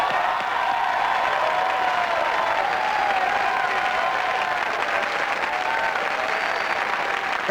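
A studio audience at a live 1998 television show claps loudly and steadily, a dense, continuous wash of applause holding level for several seconds with no pauses.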